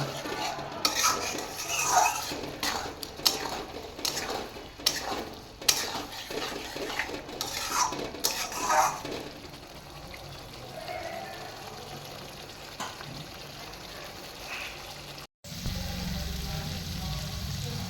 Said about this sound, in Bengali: আর মশলাটা থেকে ভালোভাবে যাতে তেল ছেড়ে আসে সেই ততক্ষণ আমি এটা কষিয়ে নেব।